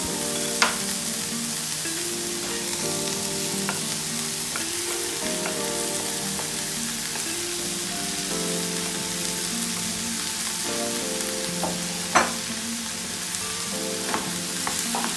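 Tomato fries over a slow fire in a pan, giving a steady close sizzle with occasional stirring scrapes and a few sharp clinks, and no voices.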